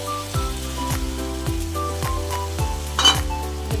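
A spice mixture for dhokar dalna sizzling in a hot pan, with a steady fry under regular rhythmic scraping strokes and a brief burst of louder crackle near the end.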